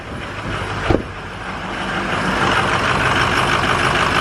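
A Ford 6.0 diesel truck engine runs steadily after a cold start, with a failing injector, its broadband rumble loud and close and rising slightly in level, marked by one sharp knock or clunk early on.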